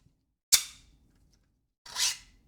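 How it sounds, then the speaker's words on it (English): The slide and magazine release of a P320 replica pistol are worked, giving two distinct sharp mechanical clacks about a second and a half apart, close and crisp in otherwise quiet surroundings. "Working mag release, working slide."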